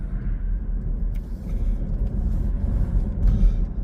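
A car rolls along a road with a low, steady engine and road rumble, a muffled interior drone with faint ticks and clatters on top and no talking.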